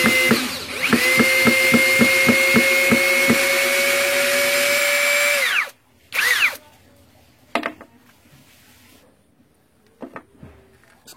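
An MLHY 21-volt brushless drill driver loosens a screw with a loud, steady whine for about five seconds, with ratcheting pulses at the start, then stops, followed by a few sharp clicks and handling knocks.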